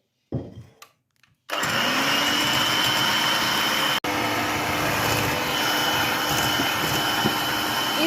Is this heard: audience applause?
no